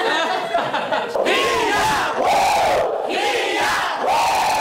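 A group of people shouts a cheer in an Indigenous tribal language backstage before a concert, with loud, rhythmic, close voices rising in repeated bursts.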